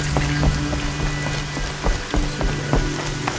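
Steady rain pattering on surfaces in the video game Horizon Zero Dawn, a continuous wash of drops with scattered sharper splashes and a low ambient hum, heard alone without speech.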